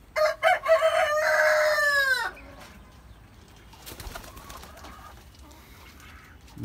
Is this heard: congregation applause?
no